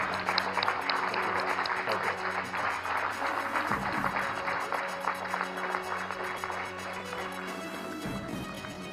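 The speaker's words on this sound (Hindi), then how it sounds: "तालियों की करतल ध्वनि के साथ हम आपका स्वागत करते हैं" Dense applause from a seated audience welcoming Prime Minister Narendra Modi at the Nalanda University campus inauguration in Bihar, a loud continuous patter of many hands clapping with a few sharper claps and a faint voice underneath.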